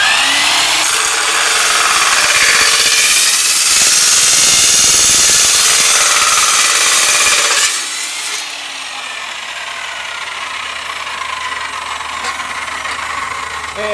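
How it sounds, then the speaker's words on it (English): A chop box saw cuts through an aluminum down tube with a loud, harsh whine and grinding bite for several seconds. It then cuts off abruptly and spins down into quieter motor hum. "We're going to place it in our chop box saw."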